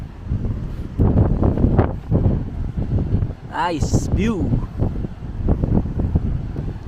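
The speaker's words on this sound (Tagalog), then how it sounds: "mahangin" Strong wind buffets the microphone with a constant low roar at a Buddha temple in Vung Tau, Vietnam, while a person speaks briefly over it.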